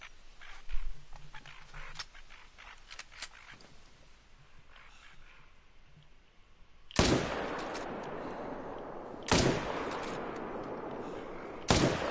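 Hunting rifle shots in the hunting game Call of the Wild: three loud, sharp blasts ring out in the second half, each followed by a long rolling echo, after a quieter stretch of ambient wildlife noise.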